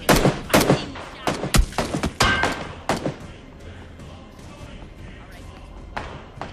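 Gunfire in the battle royale game PUBG, a rapid volley of sharp loud shots in the first three seconds that then falls away to scattered quieter reports, heard alongside players talking.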